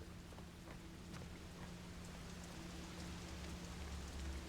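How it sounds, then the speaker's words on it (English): Heavy rain in a video game patters steadily against thin window glass, a dense, even hiss with scattered sharper drop hits and a faint low hum underneath, with nothing else heard. "the rain is bounding the thin glass of the window"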